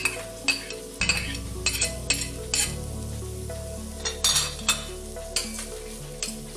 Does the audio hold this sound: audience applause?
no